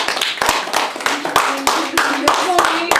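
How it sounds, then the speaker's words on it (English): Several hands clap in a quick, uneven burst of applause, close by, with voices murmuring underneath. "so do we clap?"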